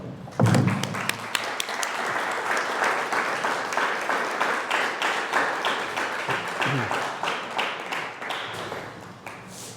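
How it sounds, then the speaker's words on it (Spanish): Audience applause at a lecture event, a strong burst of clapping that starts suddenly and holds steady as a dense, fairly close wash of claps for nearly ten seconds before tapering at the end. "Bienvenido Víctor, hermano Howard, un fuerte aplauso."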